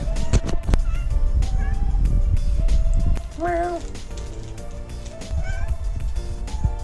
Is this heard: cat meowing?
yes